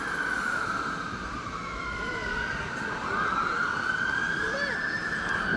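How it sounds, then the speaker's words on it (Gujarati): Wailing fire truck and police car sirens sweep up and down on Ealing Road in Wembley, steady and moderately distant, over a continuous rumble of road traffic. "ફાયર ટ્રક પછી પોલીસની ગાડીઓ બધામાં બહુ જાય છે."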